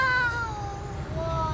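Cartoon cat meowing, a drawn-out high-pitched cry with wavering tones held steadily for the whole stretch over a low background hum.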